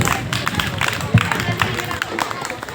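An audience at a school Independence Day event applauds to welcome a student speaker: a dense, continuous patter of clapping mixed with crowd babble and chatter, steady and fairly loud throughout.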